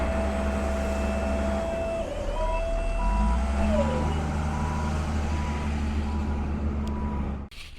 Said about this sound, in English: Put it in reverse